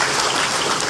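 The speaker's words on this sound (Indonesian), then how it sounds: "Beri tepuk tangan yang meriah buat Tuhan." Thick, continuous clapping from a church congregation giving praise to God rolls on evenly in a brief, loud burst.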